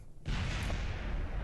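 An explosion in the video game Kerbal Space Program bursts in suddenly after a brief quiet moment, then sustains as a broad, rumbling roar that fills the rest of the moment.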